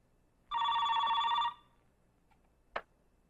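A telephone rings loudly in a single one-second burst in an office, followed by a brief click, in a quiet room with no talk.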